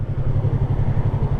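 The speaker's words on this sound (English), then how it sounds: "I pull in the clutch, now the bike is coasting." A motorcycle coasting with the clutch pulled in gives a loud, close, steady low engine throb with an even pulsing rhythm and no throttle rise.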